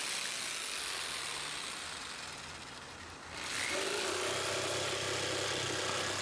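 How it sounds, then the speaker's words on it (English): Jigsaw cutting a wooden sword shape, a steady loud buzzing motor whine that dips briefly mid-cut and then resumes at full strength, close by and continuous with no talking. "I'm going to take the jigsaw and I'm going to start cutting out the shape."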